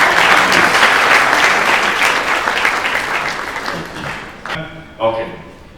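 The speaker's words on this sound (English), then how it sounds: "Another warm round of applause," A crowd at a book launch claps in a loud, dense burst of applause that slowly thins out and fades, then a voice begins speaking.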